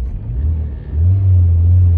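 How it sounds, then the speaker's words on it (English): An MG Maestro Turbo engine that idles roughly and struggles pulling away in first gear revs up close by, its deep rumble climbing and holding louder in the second half, with no talk. "It revs up fine,"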